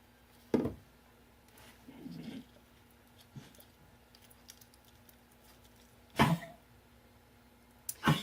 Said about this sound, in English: My little dog's coughing.